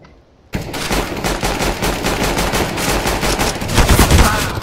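Rapid automatic gunfire in CS:GO bursts in loud and close after a brief quiet moment, a dense stream of shots that swells near the end.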